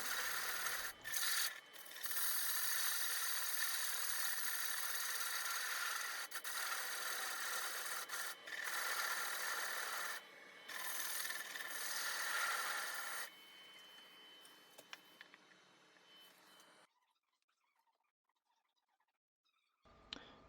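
Sandpaper rubbing against a spinning wood burl bowl on a lathe, a steady close rasping hiss with a few brief breaks, then tapering off to near silence as the sanding stops.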